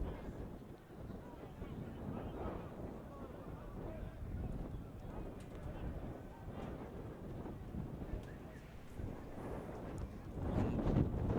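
Strong gusts of wind buffet the microphone at an outdoor college soccer field, a continuous rumbling roar that swells louder toward the end, with faint voices beneath.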